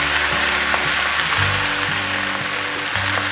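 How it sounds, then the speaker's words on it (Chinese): Eggplant, celery, lettuce and corn kernels stir-fry in a wok with added water, giving a loud, dense, continuous sizzle broken by the scrape and knock of quick tossing. "快速翻炒"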